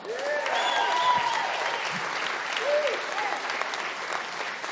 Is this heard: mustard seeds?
no